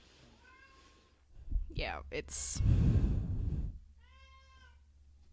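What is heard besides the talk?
cat meowing in the room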